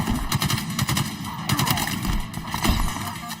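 Gunfire in the video game Call of Duty Modern Warfare 2, heard as loud, dense, rapid bursts of shots that keep firing without a break for the whole stretch.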